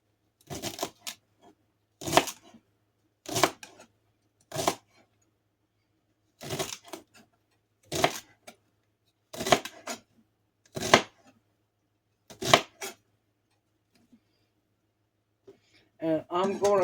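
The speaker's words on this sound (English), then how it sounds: "And I'm going to continue to cut my celery." A knife slicing celery stalks on a cutting board: crisp, separate chops come in short clusters with pauses between them, close and clear in a quiet kitchen.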